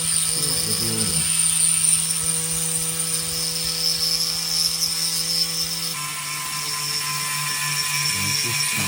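A Dremel rotary tool fitted with a fine 600-grit stone grinds steadily for several seconds, a high whining hum with shifting pitch as it bites into the workpiece, close and alone.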